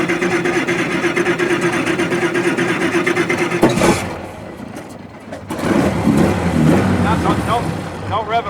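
A 1915 Hispano Suiza car powered by an 18.5-liter V8 World War I airplane engine revs loudly and steadily up close, drops off briefly, then surges again, with people talking over it.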